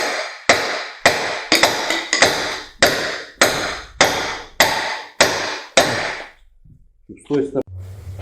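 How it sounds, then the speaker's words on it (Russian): A hammer strikes a bolt held against a suspension arm to press out a bushing, replacing rear arm bearings on a Citroen C5, about ten sharp, evenly spaced metallic knocks, loud and close, then a brief pause and a few lighter clinks. "Вот сейчас возьму болт. Сюда поставлю. Постучу туда."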